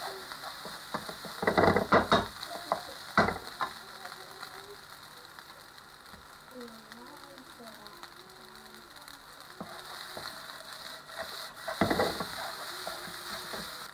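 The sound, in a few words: stirring fried rice (nasi goreng) in a hot pan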